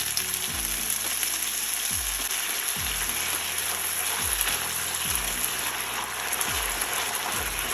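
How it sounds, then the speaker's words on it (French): Onions and bell pepper frying in hot vegetable oil, a loud continuous sizzle with a rushing hiss and low periodic thumps from stirring or the pan shifting, close and steady with no voices. "Je vais frire les oignons avec le poivron."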